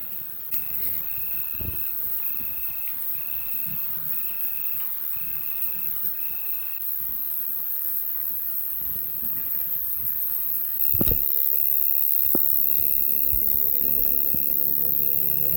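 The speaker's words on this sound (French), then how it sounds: "On entend les grillons qui chantent tout tranquillement." Steady, quiet cricket chirping in a calm outdoor setting after a storm, a regular pulsing trill continuing throughout with faint scattered background noise.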